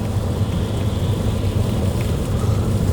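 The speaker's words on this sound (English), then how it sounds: "Luckily we made it out of the store prior to the rain starting because it's raining" Rain drums on a car driving down a mountain road, a steady, dense rumble and wash of water and road noise filling the cabin, continuous and fairly loud with no talking.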